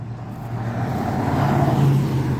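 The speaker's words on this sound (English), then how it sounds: "you're gonna hear a lot of traffic noise too because I'm outside" Steady road traffic rushes past outside an apartment complex in Merrillville, with a car's engine swelling and passing nearby over a continuous roadway hiss.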